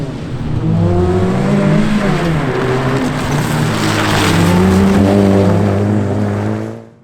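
A 1250cc rally car sets off on a stage, its engine loud and close, revving hard through rising and falling gear pulls for several seconds before fading at the end.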